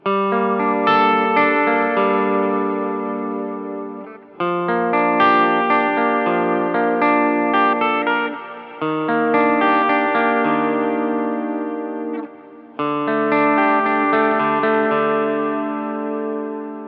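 Electric guitar with split-coil pickups plays four ringing chord phrases through a shimmering chorus-like effect, each sustained for several seconds before a brief break.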